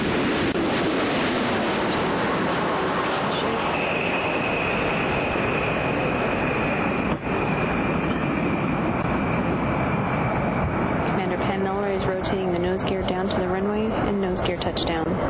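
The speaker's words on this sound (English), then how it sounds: "Discovery's rolling out on runway 33 at the Kennedy Space Center" Space Shuttle Discovery rolling out on runway 33 at Kennedy Space Center after touchdown, a steady broad roar with wind buffeting the microphone, continuous throughout, with faint tonal whine and a rise in rumbling texture near the end.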